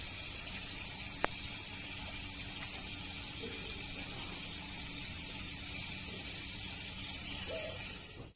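Sunsun water pump rated 8,000 liters moving roughly 900 liters of water through a small minimalist koi pond with a skimmer, a steady continuous rush and trickle of flowing water, close and even, with no voices.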